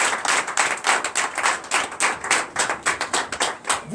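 A church congregation claps in dense, fast rhythmic unison to acclaim during a worship service, loud and close, with steady pulsing beats and no talking.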